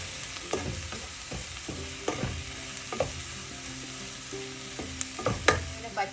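Prawn masala frying in a pan as a spoon mixes it, with a steady sizzle beneath repeated scraping strokes that come at an irregular rhythm, close and moderately loud.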